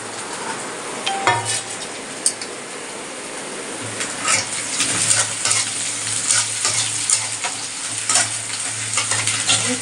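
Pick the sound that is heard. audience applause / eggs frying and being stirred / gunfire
eggs frying and being stirred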